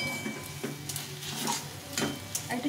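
Mashed taro leaves with garlic stir-fried in a pan, a spatula scraping and tapping in irregular strokes over a faint steady sizzle, close and fairly quiet.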